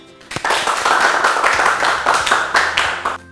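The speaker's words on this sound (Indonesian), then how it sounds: "ayo teman-teman berikan tepuk tangan kepada teman kita." Classmates clap their hands together in a classroom, a lively burst of close, sharp claps that starts abruptly, stays busy and fairly loud, then thins out with a few final claps.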